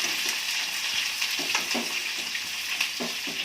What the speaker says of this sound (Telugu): ఉల్లిపాయ ముక్కలు వేసి కొంచెం సేపు అట్లా వేగనివ్వాలి